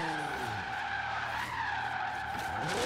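A car in the Forza Horizon 3 racing game skids under the handbrake, a loud sustained tire screech sliding in pitch over a droning engine, continuous throughout with no talk.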